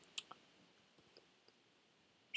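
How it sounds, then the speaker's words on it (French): Left clicks of a computer mouse while working in Figma give a few faint, sparse, sharp clicks spaced unevenly over a quiet background. "je clique gauche et je l'agrandis un petit peu"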